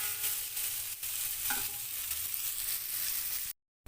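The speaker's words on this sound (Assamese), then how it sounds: "এনেকৈ মই প্ৰায় 5 মিনিটমান সময় ভাজি ল'ম।" Raw jackfruit pieces frying in a little oil with salt and turmeric, a steady close hiss of sizzling with stirring scrapes, cut off abruptly near the end.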